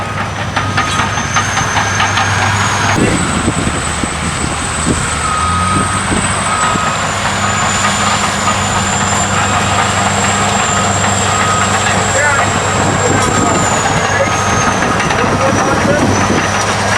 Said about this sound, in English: this is the crawler truck